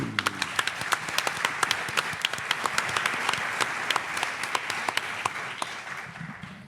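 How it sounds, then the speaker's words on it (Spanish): Applause from an audience at a mystery and UFO conference in Zamora, Spain: steady, dense clapping with sharp individual claps standing out, sustained throughout and fading slightly at the end, with no talking. "Un aplauso para Marcelino Requejo."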